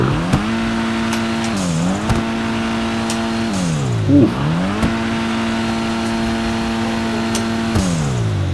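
A Honda Civic engine in GTA 5 revs loudly and continuously, pitch rising and dropping with several gear shifts, with a brief exclamation from a voice.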